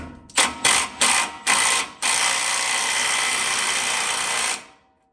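An impact wrench drives a chrome socket on a 1960 Chevrolet Bel Air during a disc brake install, firing four short close hammering bursts and then one sustained loud run of about two and a half seconds before winding down.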